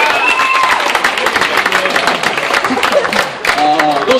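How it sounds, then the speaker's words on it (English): Applause from a prom audience, a dense steady clatter of clapping mixed with crowd voices and talk running through it, fairly loud and close for the whole stretch. "Let's give him a big round of applause."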